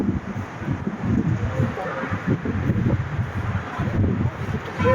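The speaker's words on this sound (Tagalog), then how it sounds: "napakasarap po ng hangin dito" Steady wind rushing and buffeting against the microphone on the rooftop deck of Boracay Tower, a continuous rough roar throughout with no clear gaps.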